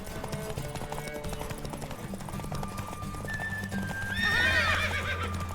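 Horse in The Witcher 3 game, hooves clip-clopping at a gallop under background music and game sounds, then a loud, close neigh near the end.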